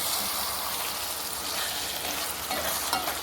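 Ackee and saltfish, the Jamaican national dish, fry in a pan with a steady, dense sizzle that holds at an even level throughout, close by and without talk.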